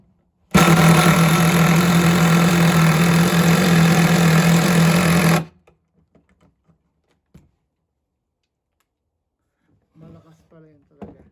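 DeWalt DCF845B impact driver runs loud and steady for about five seconds, then stops, followed by quiet clicks and brief faint talk.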